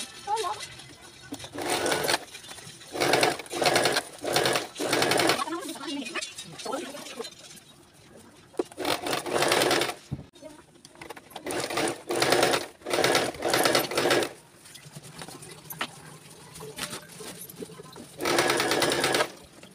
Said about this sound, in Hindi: इसे बीच में रखने के बाद यहाँ से लेकर यहाँ तक स्टिचिंग करेंगे